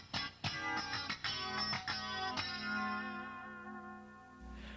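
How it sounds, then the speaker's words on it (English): Guitar chords through an amp set to a tight, snappy funk tone driving two single 12-inch cabinets loaded with EVM 12L speakers: several clipped, percussive strums, then a sustained chord ringing out and decaying, ending in near silence. "The amp drives two single 12-inch cabs with EVM 12Ls"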